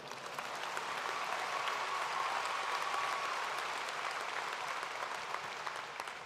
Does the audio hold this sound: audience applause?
yes